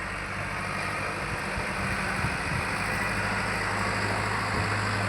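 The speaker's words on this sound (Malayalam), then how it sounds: "ട്രാക്ടർ വരുന്ന കണ്ടോ" A tractor engine runs near a forest road in Wayanad, a steady low idling rumble that holds evenly at moderate distance, with no speech over it.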